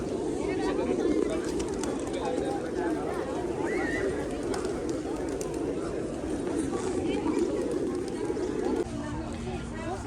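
Pigeons being fed outside Pashupatinath temple coo and flutter in a dense, steady flock murmur, heard close and continuous beneath people talking nearby.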